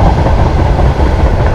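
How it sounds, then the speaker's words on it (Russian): A freight train passes near Lazarevskoye on the Sochi coast, a loud, steady rumble of wagons with faint clattering wheels and no voices. "Ездят товарные поезда грузовые."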